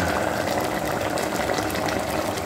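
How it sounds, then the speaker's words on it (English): A pot of thick plantain and potato soup boils, giving a continuous close, dense bubbling and gurgling that stays level throughout. "You hear the sound of the boiling."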